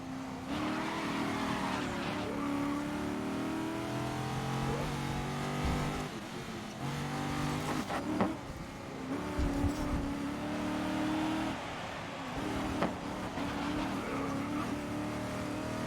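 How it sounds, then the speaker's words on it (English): An Aston Martin GT race car in the Grid racing game, its engine droning steadily at a high pitch with shifting revs and brief tire squeals, constant and fairly quiet throughout. "we're playing the Aston Martin right now on a GT series"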